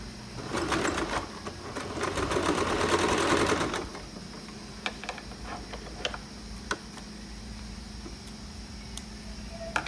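A sewing machine stitches a sport collar at a 1 cm seam, running in a loud buzzing burst for several seconds before stopping, followed by quieter scattered clicks and handling ticks.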